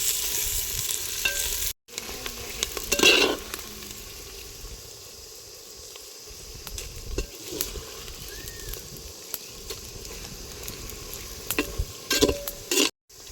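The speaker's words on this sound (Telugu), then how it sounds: "పచ్చిమిరపకాయ ముక్కలు యాడ్ చేసుకుందాం. అలాగే ఉల్లిపాయ ముక్కలు యాడ్ చేసుకుందాం, కలుపుకుందాం ఫ్రెండ్స్." Green chili and onion pieces frying in oil for chicken biryani, with a steady close sizzle and occasional spoon scrapes and taps as they are stirred.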